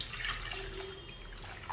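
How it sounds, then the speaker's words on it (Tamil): Water is poured into a clay pot holding mutton for kulambu, a soft steady trickling and splashing heard close up and quiet, with no talking. "மட்டன் வேகிற அளவுக்கு தண்ணி ஊற்றிடலாம்."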